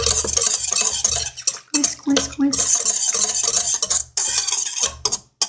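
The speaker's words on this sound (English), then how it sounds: "I need to whisk in the yeast." Yeast whisked into bread dough in a bowl, a loud, close, continuous scraping and clattering of the whisk with brief pauses between bursts.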